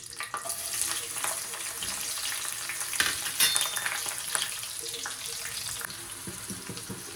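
Sliced onions frying in hot oil with mustard seeds and curry leaves in a kadai, a steady close sizzle with crackling and spatter throughout and no talking over it.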